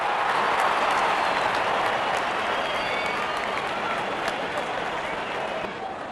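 Cricket crowd in a stadium during a Rajasthan Royals versus Sunrisers Hyderabad match applauding a shot, a broad sustained wave of clapping and cheering that stays loud and slowly eases off.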